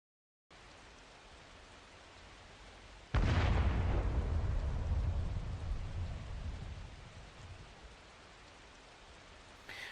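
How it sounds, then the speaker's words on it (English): In the Arknights video game, steady rain patters until a single loud artillery shell explodes with a sharp blast, then rumbles and fades back into the rainfall. "Countless shells come down from the rain, exploding the moment they contact the ground and walls."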